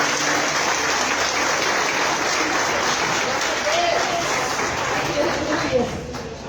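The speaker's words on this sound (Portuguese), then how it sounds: "Você pode aplaudir o Senhor?" A church congregation applauds the Lord in a dense, continuous wash of clapping at fairly close range, steady throughout and fading slightly at the end.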